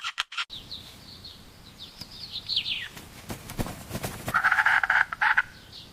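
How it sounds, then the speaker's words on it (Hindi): Several roosters give short calls and chirps while flapping their wings in bursts, close by, with some rustling in between. "ये नर परिंदे किस तरह अपने परों को फड़फड़ाकर और आवाजें लगाकर"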